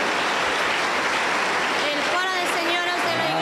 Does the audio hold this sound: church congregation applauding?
yes